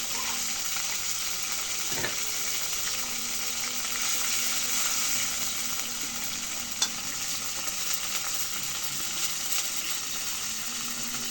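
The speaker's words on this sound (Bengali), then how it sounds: "পরিমাণ মতো এখন রসুন বাটা দিয়ে দিই" Garlic paste frying in a pan of hot oil makes a continuous even hiss and sizzle, with a single faint clink partway through and no voices.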